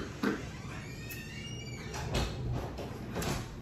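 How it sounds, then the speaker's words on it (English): A door swings open indoors with a few soft clunks and a brief scraping movement, fairly quiet against a faint background hum. "Let the door open for her."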